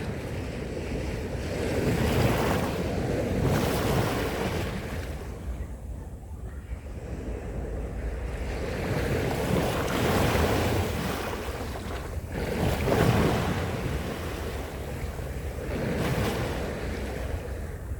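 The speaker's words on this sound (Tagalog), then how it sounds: "Ang tunog ng alon. Dito sa gilid ng dagat." Ocean surf rolls in continuous washes on a beach at Middle Bay, Hong Kong, swelling and fading every few seconds, with heavy wind rumble over the microphone and no voices.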